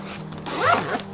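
A small zipper compartment on a Cordura modular 2-in-1 crossbody backpack is zipped, one short close rasping pull lasting about a second, alone without talk.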